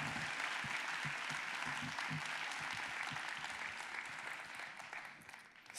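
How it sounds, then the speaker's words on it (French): Steady audience applause fills a hall at the 2019 Nantes final of Ma thèse en 180 secondes, a dense, even wash of clapping for the contestants that thins slightly toward the end. "Je crois qu'on peut énormément les applaudir pour le travail et la qualité des interventions qu'ils nous ont données ce soir."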